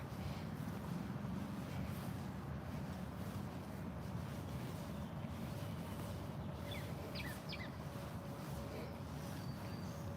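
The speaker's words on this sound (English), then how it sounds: "It's windy." Steady wind rushes and buffets across an open space, a constant low roar with a few faint chirps in the distance.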